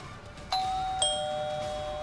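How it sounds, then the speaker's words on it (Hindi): A two-tone electronic doorbell chime rings at a house at midnight, a higher note followed by a lower one that lingers, clear over a faint background hum. "आधी रात को घरों की डोरबेल बजाती है महिला।"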